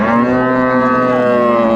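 A single long, steady moo from a dairy cow at Raniganj cattle market in Dinajpur, loud and close, holding one sustained tone with no talk over it.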